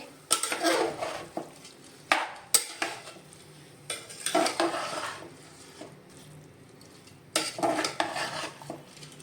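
Vegetables and basmati rice for hotel-style veg biryani being stirred and sautéed in a pan, with repeated bursts of spoon scraping and clinking against the metal, a soft sizzle underneath and quiet gaps between strokes.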